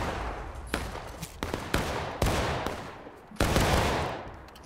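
Musket shots in the game War of Rights, several loud separate reports spaced irregularly about half a second to a second apart, each followed by a long rolling echo, as in independent rather than volley fire.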